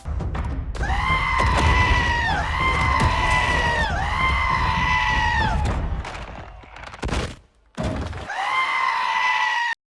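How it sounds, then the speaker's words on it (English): A screaming sheep bleat used as a goat warrior's attack cry in Kung Fu Panda 4, loud, drawn-out wails repeated several times amid impact sounds and a brief gap. "Kung Fu Panda 4 features a goat warrior who does the scream anytime he does an attack"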